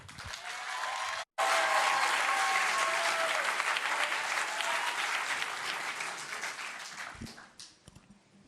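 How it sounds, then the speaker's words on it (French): An audience applauds warmly to welcome the first-prize winner of a contest at Saclay. After a brief gap the clapping turns into a loud, sustained, dense ovation that slowly fades toward the end. "j'aimerais que vous lui fassiez aussi un tonnerre d'applaudissements"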